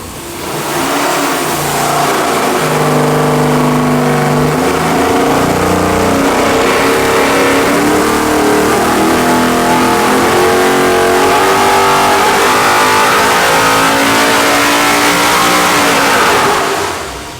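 A 700 hp 441-cubic-inch LS engine with 13.25:1 compression runs a full dyno pull, its loud, steady roar climbing in pitch for about sixteen seconds before dropping off. Nobody speaks.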